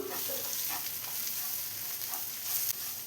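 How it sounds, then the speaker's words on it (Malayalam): Kashmiri chili powder and garam masala sauté in a hot oiled pan for an egg roast, giving a steady, close sizzling hiss with faint stirring scrapes throughout. "ഇനി ഇതെല്ലാം കൂടെ ഒന്ന് വഴറ്റിയെടുക്കാം."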